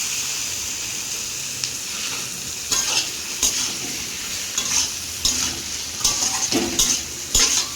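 Meat added to fried spiced oil in a pan: a steady low sizzle runs throughout while a spoon scrapes and stirs in irregular bursts, clinking against the pan up close, with no talk.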